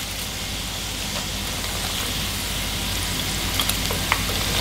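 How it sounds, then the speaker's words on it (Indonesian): Food frying in hot oil in a pan, a dense, even sizzle that carries on throughout with a few faint pops and crackles near the end and no voices. "Kita goreng selanjutnya."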